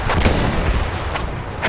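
Artillery fire in a video game, a dense, steady rumble of distant booms and blasts that fills the whole short stretch without letting up.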